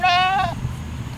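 A single short, close goat bleat at a farm, wavering for half a second before trailing off into quiet ambience.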